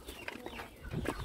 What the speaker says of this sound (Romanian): Asta e o găină matură